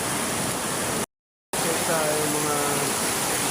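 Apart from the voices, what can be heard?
heavy typhoon rain and rushing water, Typhoon Carina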